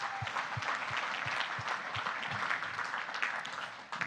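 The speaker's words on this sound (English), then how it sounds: "Just a round of applause to yourselves," Audience applause fills a demo-day event hall at a startup showcase, steady dense clapping from a crowd sustained throughout, with a low rhythmic thumping underneath.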